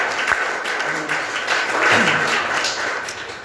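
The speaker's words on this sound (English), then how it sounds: "Yeah, you can clap for that." Scattered audience clapping at a neighborhood meeting about school land, moderately loud with a few sharp thumps and some murmured voices mixed in.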